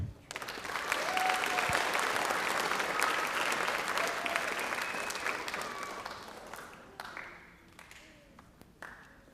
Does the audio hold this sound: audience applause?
yes